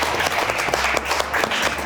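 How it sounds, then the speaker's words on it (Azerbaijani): A studio audience on an Azerbaijani comedy talk show claps steadily and loudly, a dense, continuous burst of applause with no voices over it. "Alqışlar Slippy'ni"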